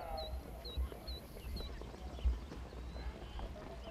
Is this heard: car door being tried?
no